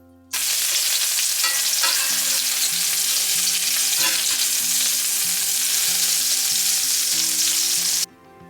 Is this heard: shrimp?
yes